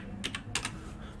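Typing on a computer keyboard: four quick, crisp key clicks in two close pairs within about a second, near and moderately loud over a faint room hum.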